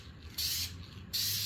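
A rattle can of spray paint hisses in two steady bursts, each about a third of a second long, during paint prep on an MGB dent repair.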